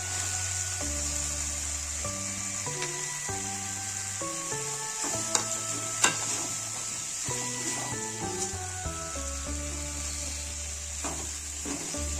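Curry leaves and ash gourd go into a hot pan for an egg and chalkumro bhujia, giving a steady close sizzle with a few sharp crackles and pops, and a low hum sits underneath.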